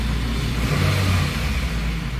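A Honda Mobilio's engine idles steadily near 850 rpm, a close, continuous low hum and whir without speech.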